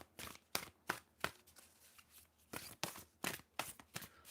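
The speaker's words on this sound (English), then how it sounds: "I'll shuffle right next to the mic so you get a little ASMR, a little tarot ASMR." Tarot cards are shuffled right beside the microphone, giving a series of crisp riffling slaps in an uneven rhythm, about a dozen sharp bursts over four seconds, close and clear with no talking.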